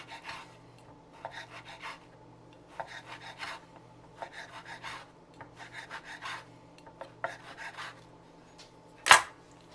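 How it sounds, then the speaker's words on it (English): A knife makes repeated rhythmic rasping strokes slicing through pancetta on a cutting board, steady short bursts at close range, ending with a sharp tap of the blade; no one speaks. "I'm going to start off by slicing up some of our pancetta"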